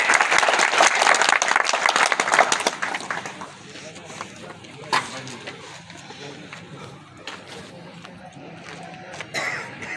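A crowd at a National Safety Week award ceremony bursts into loud, dense clapping that fades after about three seconds, leaving scattered claps and quieter room noise, with a short renewed burst near the end.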